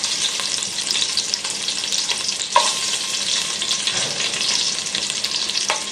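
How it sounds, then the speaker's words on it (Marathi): Garlic sizzles and fries in hot oil in a cooking pot at home, a steady dense crackle with a few louder pops and stirring scrapes, close and alone with no talk. "तेल टाकून घ्यायचं तेल टाकल्यानंतर लसूण टाकते"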